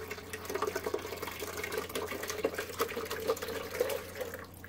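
Bottled water poured into the reservoir of a Keurig K Elite coffee maker, a close, continuous splashing and gurgling trickle with small bubbly bursts over a low steady hum, no voices.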